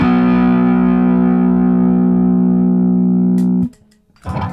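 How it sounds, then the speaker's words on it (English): Stick electric guitar played through the neck pickup with an overdrive effect: one loud sustained chord ringing steadily for about three and a half seconds, then cut off, followed by a brief quieter scrape. "And now overdrive."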